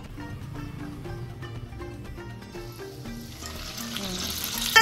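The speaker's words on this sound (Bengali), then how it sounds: "আমরা বড়াগুলোকে ভেজে নিচ্ছি" Urad dal vadas for dahi vada frying in hot oil, giving a steady, soft sizzle with crackling bubbles throughout and a brief louder stir at the end, with no voices.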